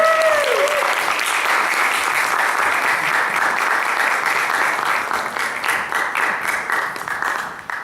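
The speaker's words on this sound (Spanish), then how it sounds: "recibamos por favor un aplauso" An audience applauds steadily for a guest speaker at a conference in Chile, the clapping loud and sustained throughout and tapering slightly near the end, with a brief whistle-like tone at the start.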